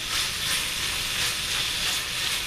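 Sausage browns in olive oil in a skillet, producing a continuous soft hissing sizzle that swells and eases slightly over a couple of seconds.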